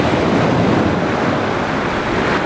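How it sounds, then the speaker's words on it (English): Steady rush of ocean surf washing in and drawing back, a continuous broad roar with some wind noise on the microphone. "As that water comes in and then goes back out again"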